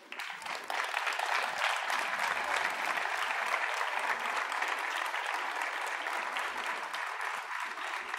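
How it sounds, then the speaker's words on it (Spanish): Sustained audience applause for José at the opening ceremony of the Guadramiro town festival, a steady dense roar of many hands clapping, loud and continuous throughout without speech. "un aplauso para José."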